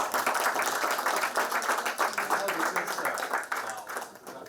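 An audience at a university journalism panel on media ethics breaks into brisk applause for a speaker, dense clapping that swells and then tapers off over a few seconds.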